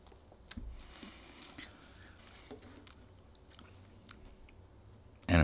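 Quiet, close chewing of Domino's cheddar bacon pizza, soft moist bites and crunches scattered over a hushed background, ending in a sudden louder bump.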